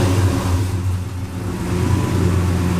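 A race car engine with headers and an exhaust sits close and runs loud and steady, a deep throbbing rumble that swells slightly as it revs, with no voices over it.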